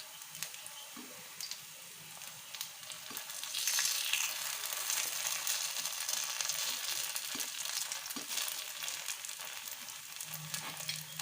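Drumstick-leaf paniyaram batter fries in a kuzhi paniyaram pan over a low gas flame, a steady soft sizzle and crackle with small bubbling pops throughout.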